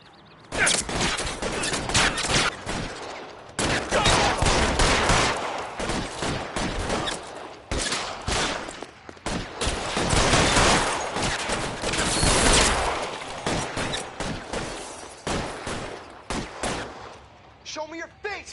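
Bursts of loud gunfire and rapid volleys in the crime game L.A. Noire during a shootout, with several long sustained runs of shots separated by brief lulls.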